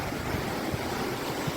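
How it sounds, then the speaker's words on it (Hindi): Fierce floodwater surging through Assam, a steady broadband roar of rushing water with no talk, close and continuous throughout. "कितना खतरनाक और रुद्र रूप है पानी का।"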